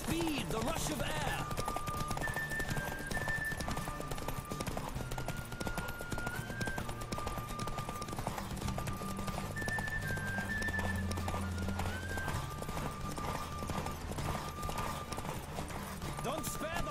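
A horse gallops in The Witcher 3: Wild Hunt, its steady, rapid clip-clop hoofbeats running continuously and fairly close under a tonal music score, with faint voices at times.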